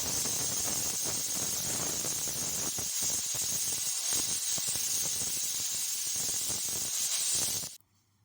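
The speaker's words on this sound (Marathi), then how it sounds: "कुकरच्या 3 शिट्ट्या काढून घ्यायच्या आहेत" Loud, continuous hissing whistle of a pressure cooker venting steam, held steady for several seconds before cutting off abruptly.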